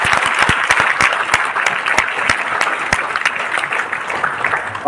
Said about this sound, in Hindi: जोरदार तालियां मारो भाई इनके लिए।